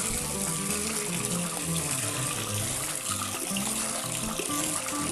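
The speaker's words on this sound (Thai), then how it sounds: "นี่นะครับการล้างนะครับการล้างปากขวดนะ" Running water rinses the mouth of a betta fish bottle, a steady loud gushing stream like a faucet, continuous and close throughout.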